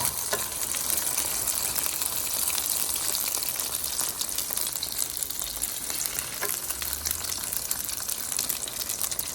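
Meat sizzling on a Korean BBQ grill over turned-up heat, a loud, constant hiss and crackle up close with no talking.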